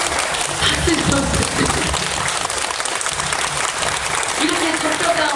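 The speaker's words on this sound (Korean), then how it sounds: "박수 좀." A crowd at a pansori performance in Incheon's intangible cultural heritage performance hall claps in a loud, continuous wash of applause that fills the room, with voices mixed in.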